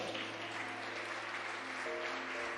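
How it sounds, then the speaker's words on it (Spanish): Church congregation applauding during a Wednesday worship service, a steady dense wash of clapping throughout, with a faint sustained musical tone underneath. "¿Puede darle un aplauso al Señor?"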